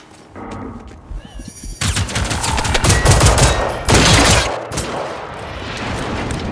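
Rapid bursts of gunfire in the video game Generation Zero crackle loudly and almost continuously, with heavy automatic volleys and a booming hit partway through.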